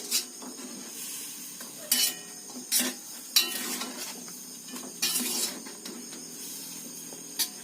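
A spoon scrapes and stirs in a pot of boiling chicken tinola with chayote in several sharp bursts over a soft steady bubbling and sizzle, close and fairly quiet.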